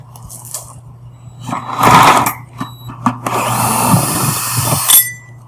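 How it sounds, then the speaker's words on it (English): A power drill whirs in short bursts, then bores a 1 3/4 inch hole for a bulkhead fitting steadily with a high grinding whine for a couple of seconds before stopping. "we are going to drill a 1 3/4 inch hole for a 1 inch bulkhead"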